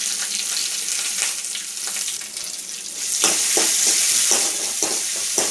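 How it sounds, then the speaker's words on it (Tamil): Onions sauté with a bright, steady sizzle in a pan that grows louder partway through, with soft scraping from stirring. "வெங்காயம் வதங்கட்டும்"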